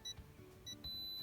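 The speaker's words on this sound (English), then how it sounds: "as you get closer it starts to beep" An electronic torque wrench nearing target torque gives a few short high beeps, then a longer sustained tone, close by but quiet, with no voices.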